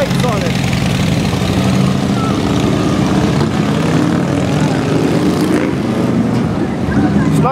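A loud motorcycle fitted with aftermarket exhaust pipes at the Roar On The Shore motorcycle rally gives off a continuous, close, rumbling engine roar, with people talking over it.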